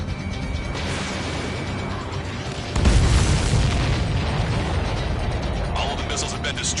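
Missiles blowing up in the Ace Combat 7 air-combat game: a dull boom lands partway through over a steady roar of jet engine noise, followed by sustained rumbling and faint mechanical clicks.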